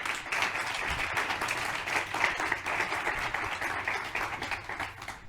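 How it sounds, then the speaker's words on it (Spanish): Sustained applause from a conference audience at a One Health symposium panel, steady clapping filling the room without a break for about five seconds. "Un aplauso."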